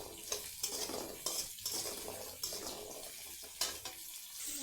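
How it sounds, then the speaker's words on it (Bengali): Kumro bori, sun-dried lentil dumplings, fry in a pan with a steady soft sizzle, broken by the scrape of a spoon stirring every second or so, quiet and close with no talking. "আমি এখন কুমড়া বড়ি ভেজে নিব।"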